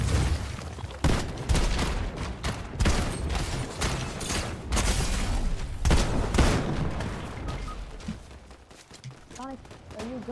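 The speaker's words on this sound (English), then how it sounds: "They're shooting at you guys." Repeated bursts of gunfire in the battle royale game Fortnite, sharp cracks and volleys coming thick and fast before thinning toward the end, loud and close over a busy game soundscape with players talking.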